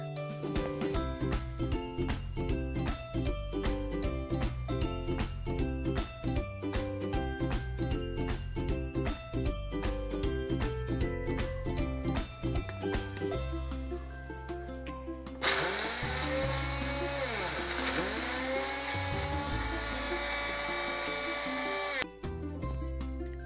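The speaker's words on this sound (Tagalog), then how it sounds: "Ngayon, dudurugin natin ang ating mga cookies." Cookies being crushed in a blender or food processor for a no-oven chocolate cake, a loud, steady grinding whir that runs without pause, shifting to a higher, smoother motor drone in the second half.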